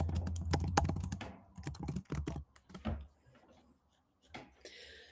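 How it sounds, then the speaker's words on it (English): Close, quick keystrokes on a computer keyboard come in uneven bursts as a question is typed, pausing briefly between runs of clicks, with no speech. "Hang on, I just got to type a question in here."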